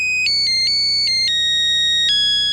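A Nokia phone rings with a Nebraska fight song ringtone, a clean, loud electronic melody of stepped tones playing alone.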